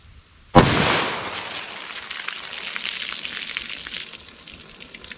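One loud .44 Magnum shot from an S&W Model 69 revolver firing PMC Bronze ammunition, a sharp crack followed by a long, slowly fading echo.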